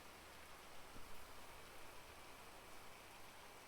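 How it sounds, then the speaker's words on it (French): Steady rain falling outdoors, a continuous soft hiss of drops on surfaces that stays even and moderately faint throughout, with no voices. "Vu qu'il pleut dehors."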